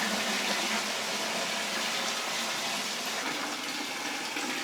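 Water pours steadily into a container being filled for a leak test of Flex Seal against a cheap knockoff, a loud continuous rushing gush close by with no pauses.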